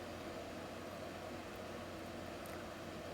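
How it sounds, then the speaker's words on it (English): Steady broadband whir of cooling fans running continuously, even and unbroken, with no talking. "so fans keep going like that"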